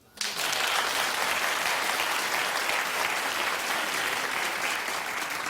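A studio audience at a daytime TV talk show breaks into loud, steady clapping that starts abruptly and holds at an even, dense level, with no talking over it.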